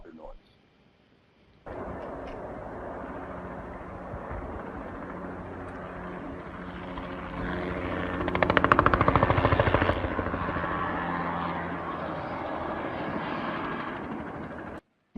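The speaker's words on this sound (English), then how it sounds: "that shows the helicopter noise" Helicopter flying aerial herbicide spraying operations, a steady broadband rotor and engine drone starting after a short quiet lead-in, swelling louder as it passes close midway, then holding at a constant level.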